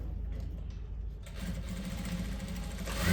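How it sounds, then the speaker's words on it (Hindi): An electric sewing machine runs steadily, stitching cloth onto a belt for a pair of trousers, a continuous close whirring drone that picks up speed and grows louder partway through, with no talking. "एक सिलाई से यहाँ पे अटैच कर लेंगे हम"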